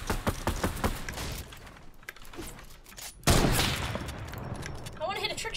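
Rapid video game gunfire during a trickshot attempt, a fast string of close shots followed by a sudden louder blast, with a voice talking over it.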